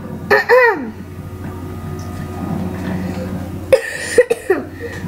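Two short bursts of dry coughing from someone who is ill, one at the start and another near the end, with quiet room noise and a faint voice from Assassin's Creed gameplay between them.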